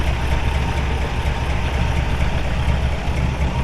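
A 1950 Oldsmobile Rocket 88 V8 with Fenton headers and dual exhaust idles steadily, a smooth low rumble with an even pulse, close and continuous with no talk over it.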